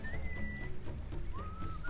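Melodic whistling from the Sam & Max Beyond Time & Space video game, two sustained whistled notes rising and holding, moderately loud over a dense bed of background game music and ambience.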